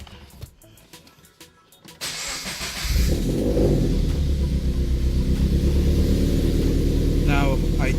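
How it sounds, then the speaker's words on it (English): A Subaru BRZ with an Ark Grip exhaust cold starts: a brief crank, then the engine fires into a loud, deep rumbling idle that holds steady, close by, with a voice briefly talking near the end. "So on to the cold start."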